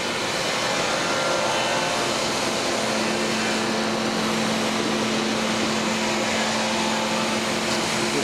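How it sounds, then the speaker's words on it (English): Vincent screw press turning very slowly while pressing sugar beet, giving a steady, continuous mechanical drone with a low hum throughout, close and fairly loud, with no talk. "You see the screws turning very slowly."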